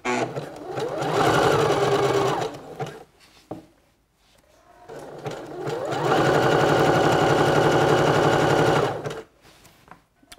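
A sewing machine zigzag-stitches elastic onto a swimsuit in two loud, close bursts of rapid stitching, each lasting a few seconds, with a short quiet pause between them.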